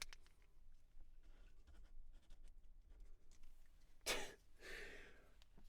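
A pen scratches out a signature on a paper print, a short burst of close, dry scribbling near the end over a faint room hum, with no talking.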